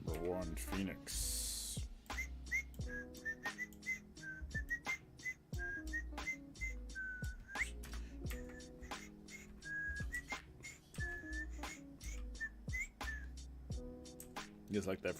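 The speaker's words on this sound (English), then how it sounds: "The whistle style." A person whistles a freestyle tune in clear, wandering melodic phrases over a plucked, percussive backing of short repeated notes.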